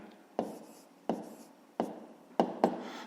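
Handwriting with a pen on paper during a 5th-grade math exercise: five sharp scratchy strokes, evenly spaced with the last two close together, near and quiet, with no voice.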